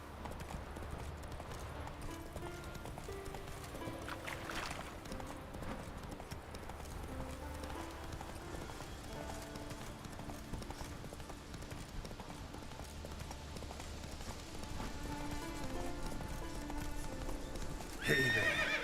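Roach, the horse in The Witcher 3, gallops with a steady rhythmic clip-clop of hooves throughout, a whinny sounding partway through, over quiet game music.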